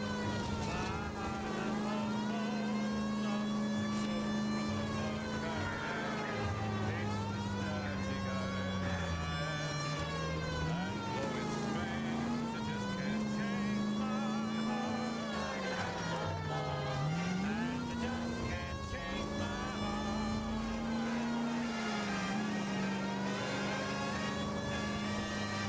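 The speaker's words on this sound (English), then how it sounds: "We'll turn our alarm on for siren." Police car siren from the video game L.A. Noire, a continuous wailing tone that rises and falls in slow sweeps over a steady engine drone, loud and close throughout.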